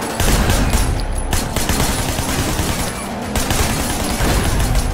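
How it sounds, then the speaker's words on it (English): Sustained gunfire in the Sleeping Dogs game aimed at a car's tires: a loud, unbroken clatter of rapid shots mixed with engine and road roar, close and dense throughout. "Just keep shooting at the tires, man."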